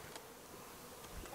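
Honey bees buzz around an opened, failing beehive, where a box is being taken apart. A steady, faint drone of many insects hangs close by, with a brief louder pass near the end.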